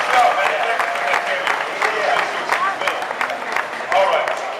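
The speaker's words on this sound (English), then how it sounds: "How about another round of applause for Kurt and the stunt team?" Audience applause for the stunt team at a Disney World motor stunt show, with steady clapping from a crowd and a voice speaking over it on a loudspeaker.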